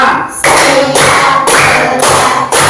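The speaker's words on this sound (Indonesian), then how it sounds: "Tepuk tangan untuk kita semuanya." Class of pupils in an Islamic religious education lesson clapping in unison, a loud repeated rhythmic clap pattern in bursts roughly every half second, close and sharp with no talk over it.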